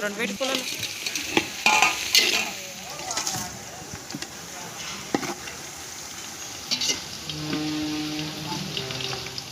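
Onions frying toward golden brown in oil on a wood-fired stove, a steady sizzle with spatula scrapes and stirring, joined by running water near the end, with a voice speaking intermittently over it.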